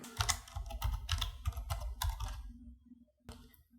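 Computer keyboard typing sounds as a quick run of close, crisp key clicks in irregular bursts, then slows to a few scattered taps before a final keystroke.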